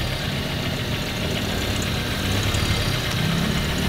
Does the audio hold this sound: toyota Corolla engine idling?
yes